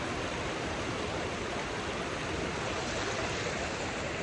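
A river rushes loudly with a waterfall upstream, a broad continuous roar of flowing water that stays steady and close throughout, with no talking.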